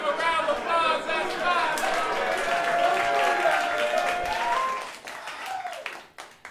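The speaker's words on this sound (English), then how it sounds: "Give a round of applause" Audience applause at a podcast open mic, a steady wash of clapping mixed with cheering and chatter that holds for about five seconds, then thins out and fades near the end.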